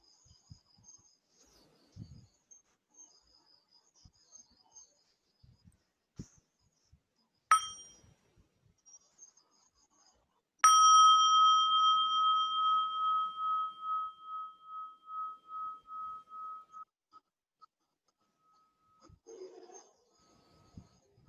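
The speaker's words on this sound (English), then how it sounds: "So let's listen to one sound of the bell" A single meditation bell struck once during a live online Buddhist question-and-answer session with sanghas in Asia, ringing out clearly and then fading in a long, slowly decaying hum that dies away into quiet.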